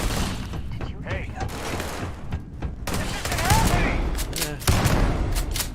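Gunfire from Starfield, fired during a combat slide: a few sharp shots amid busy game effects and music, with a voice speaking briefly over it.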